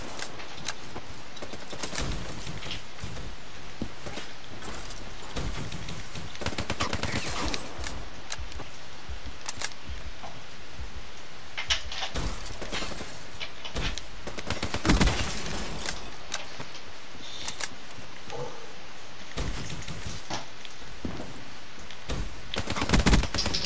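In a one-on-one shooter video game match against an advanced computer opponent, sharp gunshots crack in quick scattered volleys over a steady game background, bunching into louder clusters at times.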